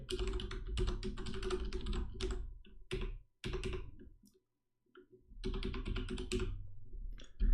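Rapid bursts of typing on a computer keyboard as a fake Yahoo login form is filled in, close and clear, with a short pause in the middle before the clatter resumes.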